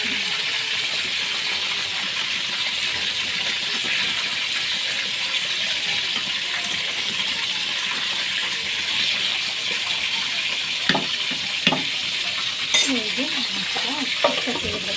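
Chicken meat is fried and stirred in a hot pan for a lunch dish, a steady close sizzle with occasional scraping clinks of a spoon against metal and a few louder knocks toward the end.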